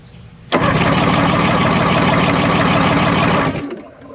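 A 1989 Johnson 150hp outboard engine on a McKee Craft boat cranks steadily for about three seconds without firing, a loud, close, rhythmic whirring of the starter turning the engine over during a compression test, then it stops abruptly.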